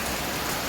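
Rain falling outside, a dense, even patter of drops hitting surfaces, steady and fairly close throughout a brief moment, with no voices.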